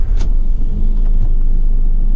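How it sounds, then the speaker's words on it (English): A 2018 Fiat Ducato recovery truck's engine runs with a loud, steady low rumble close by, a brief crank-like burst at the start settling into an even idle. "I'm going to take it on a quick test drive, so let's start her up."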